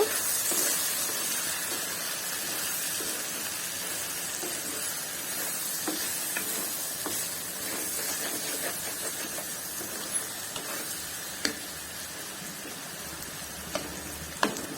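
Turmeric powder fries in hot oil on a high flame for mango pickle, a steady, fairly quiet sizzle and hiss with a few sharp crackles and pops near the end.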